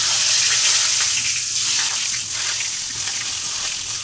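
Potato pieces slid into hot oil for frying, producing a loud, continuous close-up sizzle and crackle that holds steady throughout.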